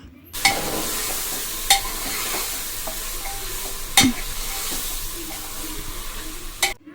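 Goat head curry being stirred in a pressure cooker, a steady sizzling scrape with a few sharp knocks of the spoon against the pot, close and alone without talk.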